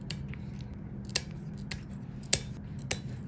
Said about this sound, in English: Now I'm going to trim down the nail tips.